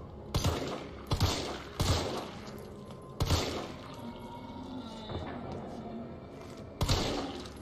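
Rifle shots ring out in the video game Resident Evil 3 Remake, five sharp, loud cracks spaced irregularly over several seconds, each with a short echoing tail, over a low ambient rumble with faint dripping.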